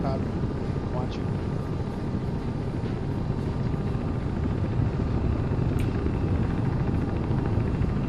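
A steady low rotor-and-engine roar drones throughout, with wind-like rumble and no clear voices on top.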